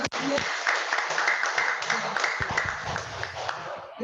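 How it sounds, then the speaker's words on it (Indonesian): Audience applause at an Indonesian community religious gathering on drug-free living with joint prayer, a steady wash of clapping lasting several seconds with a faint voice underneath. "Tepuk tangan buat dia."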